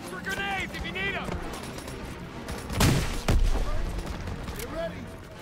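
Bursts of gunfire in the World War II shooter Call of Duty: WWII, with loud volleys around the middle of a steady battle din, under shouted in-game voices.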